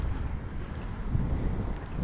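Wind buffets the microphone at the Tewkesbury Abbey caravan and motorhome campsite, a loud, continuous rumbling roar with no voices.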